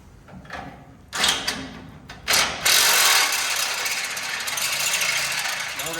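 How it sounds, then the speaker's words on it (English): A drill fitted with a step bit enlarges a hole to 3/4 inch in metal during a Ford F100 Crown Vic swap, with bursts of grinding that then give way to a steady, loud whine of cutting. "we're stepping this hole size up to 3/4 of an inch"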